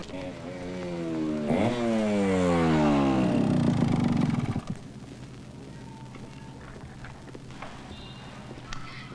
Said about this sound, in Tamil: ஏன் பைக்கை இவ்வளோ ஃபாஸ்ட்டாக ஓட்டுற?